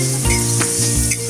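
Potatoes and flat beans fry in hot oil with green chili, a loud, close, dense sizzle with periodic stirring pulses throughout.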